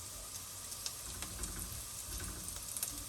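Onions frying in a pan over high heat, a faint, steady sizzle with small crackles and light stirring scrapes throughout.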